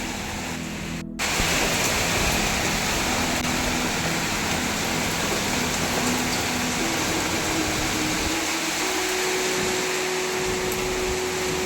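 A heavy, unseasonal rainstorm pours down as a constant, loud, dense roar that fills the whole stretch without a break.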